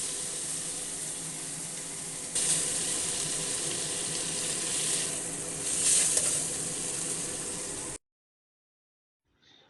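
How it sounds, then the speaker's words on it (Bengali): Shrimp stirred in a little oil in a pan, with a steady, close sizzle that swells at moments for about eight seconds, then cuts to silence. "এবার সামান্য একটু অল্প তেল দিয়ে হালকা করে চিংড়ি মাছটা একটু নাড়াচাড়া করে"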